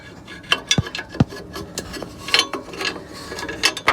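Bolts on the catalytic converter of a Jeep 4.0L being loosened by hand with a wrench, giving scattered metallic clicks, ratcheting and scraping taps at close range, with a couple of sharp knocks and no talking.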